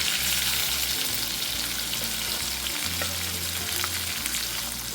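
Chili and onion frying in hot oil with a little asafoetida, a steady close sizzle with broad crackling hiss throughout, plus low rumbling from the stove and pan.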